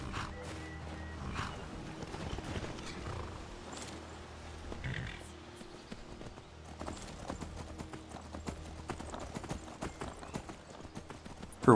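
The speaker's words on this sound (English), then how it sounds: "Her horse isn't as fast as mine." Horse hooves clop in a rapid rhythmic run in Skyrim, moderately close with occasional louder impacts and faint game ambience, no talking.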